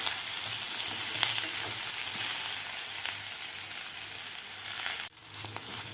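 Jackfruit pieces frying in oil for a Vidarbha-style jackfruit curry, a constant dense sizzle with occasional light taps, close; near the end the frying noise drops off sharply and resumes more quietly.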